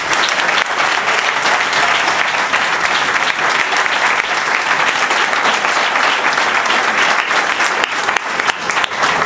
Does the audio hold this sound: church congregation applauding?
yes